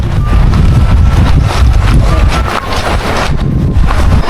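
Loud, steady wind buffeting the microphone throughout at Sabang, Baler, Aurora, Philippines, a continuous roaring rumble with gusty fluctuations.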